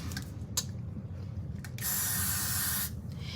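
Aerosol spray hisses onto the sides of a copper bob wig during an install, with a couple of short bursts followed by one longer steady spray of about a second, close and fairly loud.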